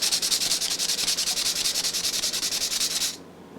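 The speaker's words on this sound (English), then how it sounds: "Just take a small piece of sandpaper" Sandpaper scrubs rust off a smoker rack from a Little Chief smoker in quick, even back-and-forth strokes, a steady rhythmic rasp close up for about three seconds before stopping.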